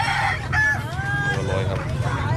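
Chickens and a rooster at a Lao morning market in Savannakhet where ducks and chickens are sold, with clucking and a crowing call amid busy market chatter and vendors talking nearby.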